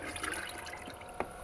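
Water is scooped and poured onto container-grown broad bean plants on a rooftop garden, heard as faint, soft splashing and trickling with one brief slosh near the end.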